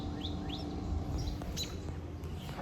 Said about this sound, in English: Got some little babies, baby robins.